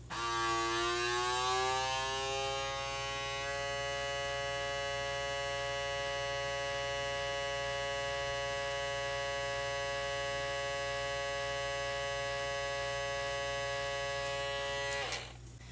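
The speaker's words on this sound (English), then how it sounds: "I hit the vacuum seal button and it sealed it." A vacuum sealer hums steadily and loudly while sealing a bag after a brief rising whine at the start, then cuts off abruptly near the end with a click.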